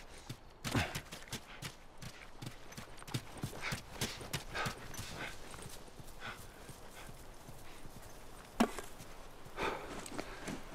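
Horse hooves clip-clopping in the video game The Last of Us, a quick uneven run of sharp knocks on hard ground, fairly quiet and close, with no talking.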